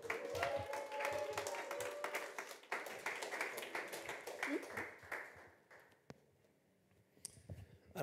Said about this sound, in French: Tu peux lui faire un applaudissement.